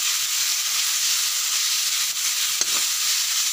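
Spices frying in oil in a pan for masala fish curry, producing a steady, loud, close sizzle with one brief stirring clink partway through.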